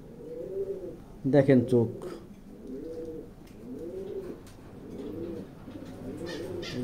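Racing pigeons of a foreign racer line coo in repeated low, rolling phrases inside a pigeon loft, with someone talking close by and a brief flurry of louder fluttering or handling noise.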